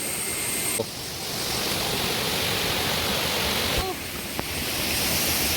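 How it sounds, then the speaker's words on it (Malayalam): Cold stream water flowing down from Agasthyarkoodam, a broad continuous rush close to the listener, briefly dipping around the start and again near the fourth second, with a couple of small knocks. "ഇത് അഗസ്ത്യർകൂടം, അവിടെ നിന്നുള്ള ഉത്ഭവമാണ് ഇതിൽ കൂടെ ഒഴുകുന്ന ഈ ഒരു വെള്ളം"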